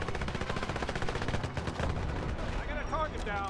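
Grenade blasts and rocket launcher fire in the video game 007 Legends: Goldfinger, a dense run of rapid booming shots and explosions that ends in a short whistling tail, loud and unbroken, with no speech.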